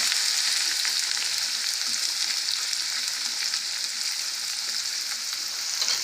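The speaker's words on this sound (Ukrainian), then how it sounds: "Налила олії в сковороду. Тепер цибульки." Onion sizzling in oil in a frying pan, a loud continuous hiss and crackle that stays steady and close throughout.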